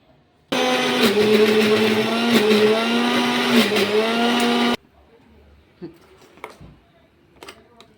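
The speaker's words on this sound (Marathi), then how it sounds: "हे सर्व कांदा सर्व मसाल्याचे पदार्थ एकत्र आपण मिक्स करून ते पूर्ण मिक्सरमधून काढून घेत आहे" A kitchen mixer grinder blends onion and spice masala for a mutton curry. Its loud, steady motor whine runs for about four seconds with slight pitch dips, then cuts off, leaving faint clinks and handling noises.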